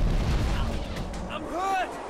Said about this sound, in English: This slipspace pistol is really busted.